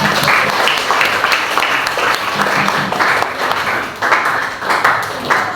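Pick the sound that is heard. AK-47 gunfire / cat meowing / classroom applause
classroom applause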